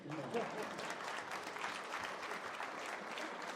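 Steady applause from a studio audience during a startup founder interview, dense and even for several seconds, with faint voices mixed underneath.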